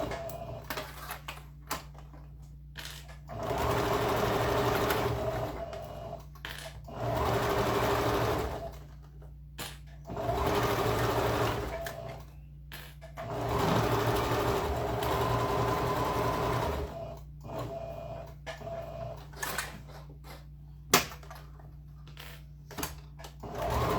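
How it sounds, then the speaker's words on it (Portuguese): A sewing machine runs in several steady bursts, stitching a safety seam to hold the lining of a shoulder bag, its fast mechanical whir starting and stopping with short pauses between runs. "Já aproveitar e passar uma costura de segurança aqui para prender o forro."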